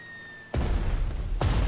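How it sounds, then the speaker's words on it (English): Bomb blasts from a tactical bomber's run in the WWII strategy game Strategic Mind: Blitzkrieg, two heavy booming detonations: the first crashes in after a short quiet stretch and rumbles on, the second hits about a second later, loud and close. "Tactical bomber reporting. Starting bomb run."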